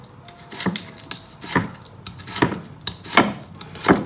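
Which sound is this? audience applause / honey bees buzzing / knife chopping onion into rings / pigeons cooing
knife chopping onion into rings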